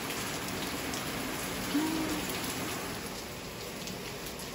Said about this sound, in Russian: Ух ты, прям ливень ливанул.